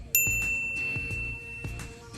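A bright notification bell ding strikes once at the start and rings on with a sustained metallic tone, over a soft rhythmic musical bed with light percussion hits.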